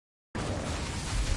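A spell cast in Hogwarts Legacy erupts abruptly after a brief silence, a loud fiery burst with a sustained rushing whoosh that holds steady to the end.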